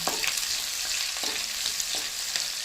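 Finely cut garlic and ginger fry in a pan for turnip, spinach and green pea saag, a loud continuous sizzle with a few faint scrapes of stirring, no voices.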